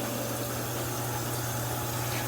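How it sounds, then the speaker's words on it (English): Steady running water rinses the roots of a Phalaenopsis orchid being prepared for water culture, a continuous close gushing flow with a faint low pump-like hum throughout. "we just rinsing off the roots"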